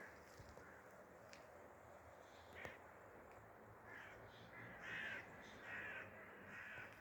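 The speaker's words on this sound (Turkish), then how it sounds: "Kargalar" Crows caw several times at a distance, rough calls spaced over the second half after a sharp metallic knock, near a bird coop after a hawk attack.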